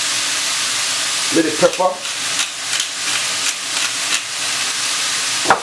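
Cabbage and mixed vegetables sizzle steadily in a hot pan during a Caribbean vegetarian stir-fry, with a few stirring scrapes and a brief spoken remark over the constant frying hiss.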